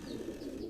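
An old pigeon on a rooftop loft gives a soft, low, continuous coo, close and steady, with no talk over it.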